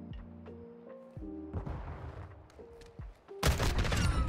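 An M16 rifle in a video game fires in rapid bursts, loud close-up cracks clustered together with a dense volley at the end, over scattered game sounds.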